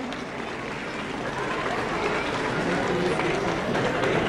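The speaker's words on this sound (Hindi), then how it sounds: "आपकी तालियां सुनाए" Dense, steady applause from a large audience fills a cricket award ceremony hall, continuous and loud throughout, with voices mixed in.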